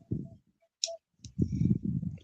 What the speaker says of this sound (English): a lot of snapping or lighters flicking